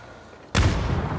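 A single loud, close gunshot in the PUBG battle royale game, a sudden heavy blast that follows quiet background and rings out in a booming tail.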